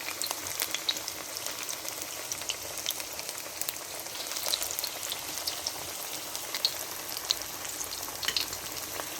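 Keema pakoras deep-frying in hot oil over a low flame, a continuous crackling sizzle with dense little pops throughout, close and steady with no talking.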